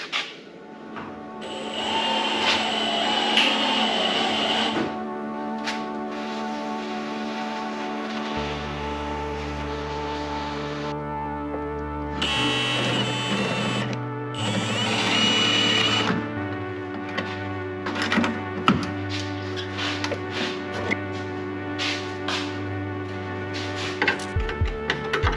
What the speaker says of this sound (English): we're using the spot weld drill bit